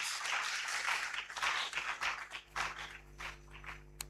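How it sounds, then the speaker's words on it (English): An audience at an inaugural university lecture gives a round of applause, a moderate patter of claps that comes in uneven bursts and swells. "Let's give him a round of applause."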